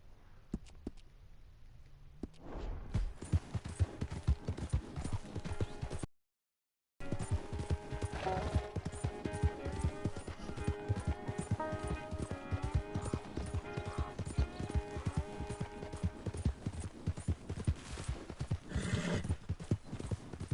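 Video game horse hooves clip-clop in a fast, steady gallop rhythm against game music, starting after a quiet opening and briefly cutting to silence, with a short whinny partway through.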